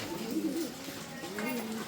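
Soft, low cooing of racing pigeons, two rolling coos close by with a brief pause between them.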